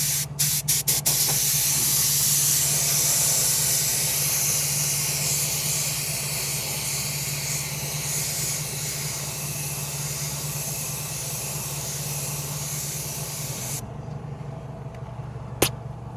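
Spray can hissing steadily as Dark Hyper paint is applied to a Cadillac Escalade V wheel during a curb rash repair, a continuous close spray with a few short bursts at the start, stopping near the end.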